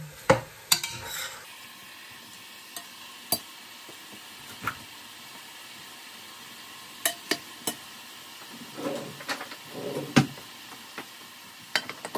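Sautéing for pork sinigang: a utensil scrapes and clinks against a pan in scattered sharp knocks over a faint background sizzle, with a brief louder frying burst near the end.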